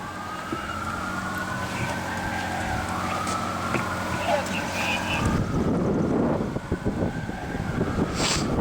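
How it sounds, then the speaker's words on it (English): Wailing emergency sirens of responding EMS vehicles rising and falling over traffic noise at a mock crash drill in Belle Plaine, moderately distant, with a heavier rumble of vehicles toward the end. "You can hear the sirens."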